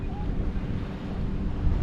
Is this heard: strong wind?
yes